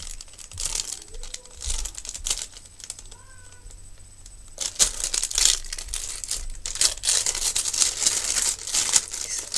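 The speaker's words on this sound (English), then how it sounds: "it's in a weird crinkly packaging." Crinkly plastic packaging is handled and torn open in bursts of sharp crackling and rustling, close by, with a quieter pause in the middle and denser crinkling toward the end; no talking.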